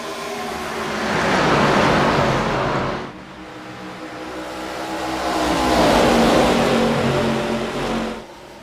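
ARCA race cars at Dover roar past single file along the front straightaway, two loud engine swells rising and fading close by, with no talking.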